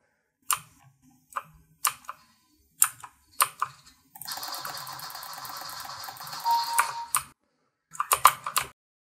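Typing on a budget $69 RGB mechanical keyboard, heard as scattered bursts of sharp clacking keystrokes followed by a stretch of rapid continuous typing, then a few more quick clusters of key presses, close and alone with no talk.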